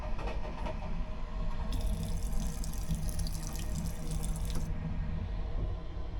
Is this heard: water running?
yes